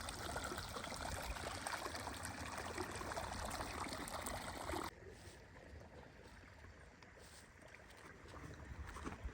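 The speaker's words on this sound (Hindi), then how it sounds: "यहाँ पे से ग्लेशियर का जो पानी है यहाँ से आबपाशी के लिए इस्तेमाल होती है" Glacier meltwater rushes through a mountain village irrigation channel, a steady, dense wash of flowing water that drops to a softer trickle partway through and continues alone.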